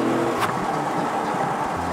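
A Chevrolet Camaro engine holds a steady drone at about 3,500 RPM while driving on the highway, loud and close from inside the cabin, with one brief sharper burst early on.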